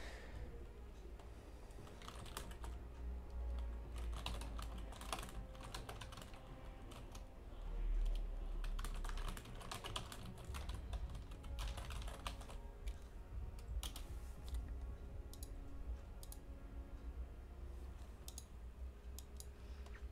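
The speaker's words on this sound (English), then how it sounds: "Sorry for the typing sounds." Steady, fairly loud clicking of computer keys in quick irregular bursts, continuing throughout with no voices.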